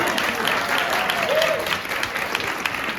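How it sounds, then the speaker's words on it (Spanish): Steady audience applause fills a poetry cabaret performance at an adult education school, dense and sustained throughout with faint cheering voices mixed in. "¡Bravo, bravo! ¡Sí, aplausos!"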